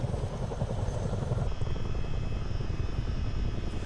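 Chinook helicopter in Microsoft Flight Simulator 2024 at a New Zealand landing spot, its steady rotor thump and engine drone filling the scene continuously at close range without speech.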